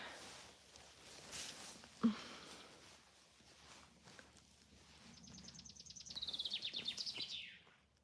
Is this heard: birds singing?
yes